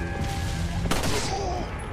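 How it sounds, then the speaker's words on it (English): Cannon fire in the Resident Evil video game: a broad burst of blasts roughly midway through, over a continuous dense rumble of game noise, with no talking. "with the cannon going crazy over there"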